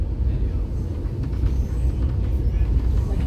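A steady low rumble of a moving historic excursion train on the Missionary Ridge Local, loud and continuous, with rattling and rolling noise throughout.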